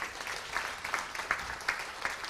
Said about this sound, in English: Let's give a clap to Asea, man.